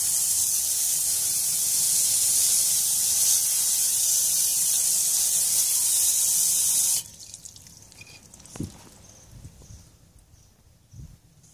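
A garden hose sprays water over motorbike exhaust pipes in a loud, steady hiss for about seven seconds, then cuts off, leaving scattered drips and small clunks.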